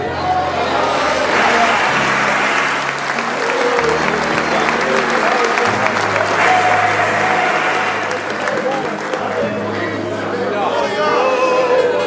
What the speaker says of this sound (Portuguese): dê um aplauso mais forte que esse